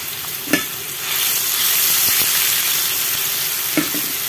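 Ginger dropped into hot oil left from frying milkfish, with a steady loud sizzle and a couple of stirring knocks against the pan.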